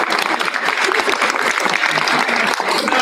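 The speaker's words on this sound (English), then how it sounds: "Another round of applause for our Smalley School students of the month." Applause at a school board meeting for the students of the month, a dense and steady round of clapping from a roomful of people, moderately loud and without speech over it.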